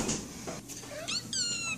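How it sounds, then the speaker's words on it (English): A house cat gives a couple of short, clear meows close by, the last one drawn out and rising, in an otherwise quiet room. "Meow, meow."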